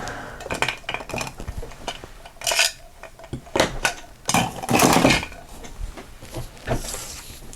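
Someone rummages for a craft knife, making a string of close metallic clinks and clatters of tools and utensils, irregular and fairly loud, with no talking.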